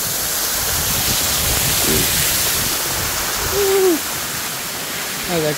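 Steady rushing wash of a salt-water waterfall spilling over slippery rocks, constant and close, with a few brief tonal calls rising over the flow.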